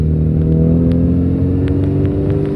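A 1993 Suzuki Esteem car engine revs steadily up close, a loud continuous mid-pitched drone with a faint clatter and no voices over it.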